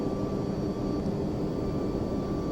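Boeing 757 jet engines in the FSX flight simulator give a steady, loud cockpit roar with a smooth, unbroken hum and no talking.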